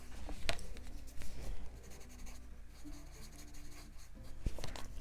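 A paper blending stump rubs across paper during a colouring session with yellow, giving a soft continuous scratchy scrubbing with a few sharper taps.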